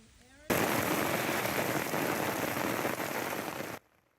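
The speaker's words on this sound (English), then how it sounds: "the sound of all that heavy rain right there" Heavy rain from a severe monsoon storm in Phoenix, Arizona pours down steadily in a dense, hissing wash that starts abruptly and stops just as suddenly, loud and close throughout.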